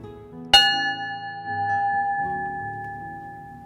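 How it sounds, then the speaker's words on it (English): A single stroke of a memorial bell inside a church sanctuary rings out clearly, then sustains a pure, lingering hum that fades gradually in the echoing space. "The only sound you can hear in the church is the bell ringing"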